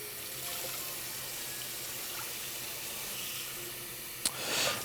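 Water runs steadily into a cooking pot, a continuous close hissing stream with a brief clatter near the end, no speech.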